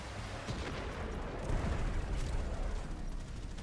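Ordnance shots fired in the game Warframe form a dense, continuous roar of gunfire and blasts that swells slightly halfway through, with no talking.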